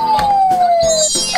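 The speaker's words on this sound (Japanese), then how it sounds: "サイレンの音がするよ。" Electronic siren from a toy police car sounds up close, a steady falling tone broken by rhythmic pulses, loud and alone for just over a second.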